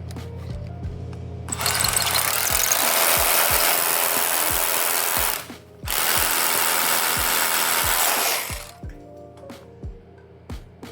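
A power drill bores a pilot hole into a commercial door, running loud and steady in two long bursts separated by a brief pause, with a low mechanical hum underneath.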